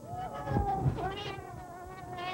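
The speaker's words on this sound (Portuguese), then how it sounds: "notou que Praxedes, seu gato angorá, se arrepiou todo de ciúmes" An angora cat meows, a drawn-out, wavering whine heard up close and fairly loud, with no other voices.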